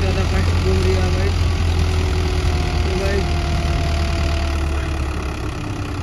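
The engine of a stuck Mahindra tractor runs with a steady low rumble close by, while people talk over it.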